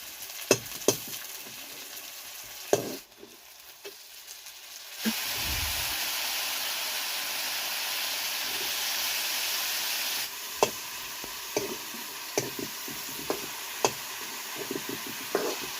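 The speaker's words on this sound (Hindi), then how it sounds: "अभी तो हमने कढ़ाई में प्याज डाल रखा है" Onions fry in a kadhai for mushroom curry, a steady sizzling hiss broken by intermittent stirring knocks and scrapes, loudest through the middle, with no talk.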